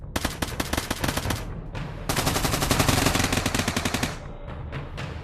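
Rapid automatic gunfire in the Pavlov VR shooter game, played on Quest: dense, loud bursts of shots that run almost without pause, then a brief gap and a longer sustained volley before the firing stops.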